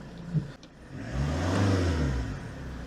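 Fiat Multipla engine idling then revving up into a steady mid-pitched drone, close by and alone, holding at a raised hum to the end.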